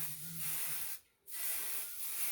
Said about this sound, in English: so I just put a little hairspray on it.